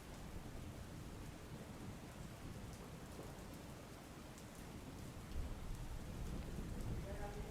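Heavy rain in Vadodara pours down in a dense, unbroken hiss with a deep rumbling undertone, steady throughout with no voices.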